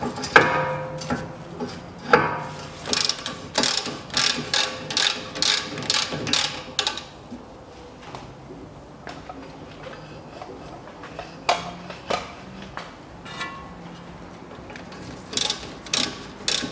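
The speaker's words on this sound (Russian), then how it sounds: "Теперь откручиваем сзади два болта, которые у нас крепят скобу." A ratchet wrench with a 16 mm socket unscrews the brake caliper bracket bolts on a 2016 BMW X3 2.0, a close series of rapid clicking ratchet bursts, with pauses between the runs of clicks.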